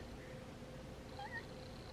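Thiccboi, a house cat, gives a faint, short meow or two against a quiet indoor room background, with no one speaking.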